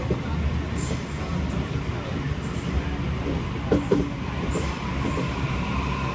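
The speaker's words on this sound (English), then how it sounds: "Waratah A25 now departing platform one, city-bound service." A Waratah A25 electric train departs a platform and rumbles steadily past at close range with a low continuous drone, faint wheel clatter and a brief screech in the middle.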